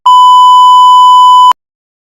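A loud, steady electronic beep holds one pure tone for about a second and a half, then cuts off abruptly into silence, like a phone ring tone.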